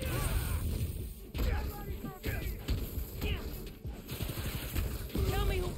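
Gunfire bursts in the Spider-Man: Miles Morales video game crackle amid game effects and a player's voice talking throughout, with rapid shots blending into the busy mix.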